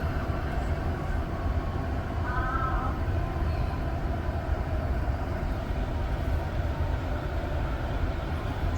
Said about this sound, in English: I'll leave you guys with a view of this very train departing. It's always cool to hear the acceleration sound